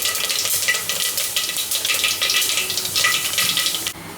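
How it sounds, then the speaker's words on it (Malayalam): Fenugreek seeds fry in hot oil after mustard seeds have popped, as Kerala chicken curry is made in a pressure cooker. A loud, continuous sizzle pulses with crackles, then drops away abruptly just before the end. "കടുക് പൊട്ടിക്കഴിയുമ്പോഴത്തേക്ക് ഉലുവ ചേർത്ത് കൊടുക്കാം"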